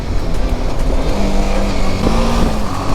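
A car passes close to a BMW GS 310 Rally motorcycle on the road, its engine and road noise rising loudly and steadily over the bike's own engine rumble, with no talk.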